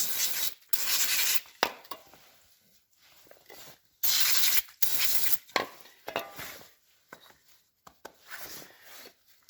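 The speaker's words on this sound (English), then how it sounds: "I like to clean off everything real quick with some brake cleaner." Brake cleaner sprayed onto oil filter parts from a 2005 Honda Rancher 400 ATV and wiped clean: repeated close, loud hissing spray bursts separated by quieter rubbing and wiping, with no talking.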